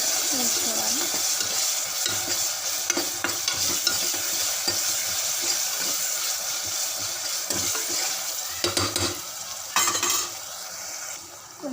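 Ginger garlic paste fries in a pan while it is stirred. A steady close sizzle runs under repeated scraping and clinking of the utensil against the pan, with a few louder scrapes near the end.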